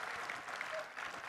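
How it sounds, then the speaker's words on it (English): Audience applause at a Class 5 school annual day celebration, a steady wash of many hands clapping at moderate distance, fairly soft and even throughout with no voices over it. "May we please give a round of applause to these very spectacular performances"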